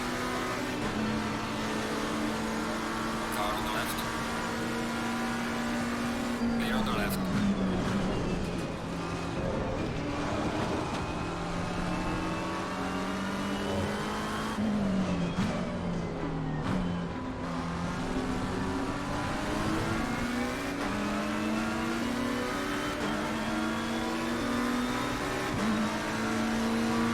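Racing car engines roar in a PS5 sim racing game, one loud engine holding and rising in pitch through repeated gear shifts, with another car close by and brief tyre noise.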